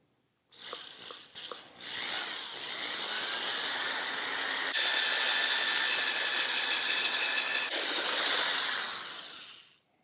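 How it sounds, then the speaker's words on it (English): A power drill whines steadily through a metal Royal Enfield Interceptor 650 tail light bracket for several seconds after a few brief starts, its pitch shifting slightly midway before winding down. "I'm just going to drill a hole in the original tail light bracket"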